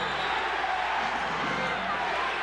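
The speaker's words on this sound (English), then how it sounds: "Crowd with the chant of defense." Arena crowd at a 1991 NBA Finals game between the Bulls and Lakers, a dense steady roar with a rhythmic defense chant running throughout, loud and continuous with no clear breaks.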